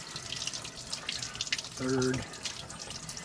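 Cold well water runs steadily from a tap into a container while bread dough is being made, a continuous close splashing hiss with a brief voice spoken over it.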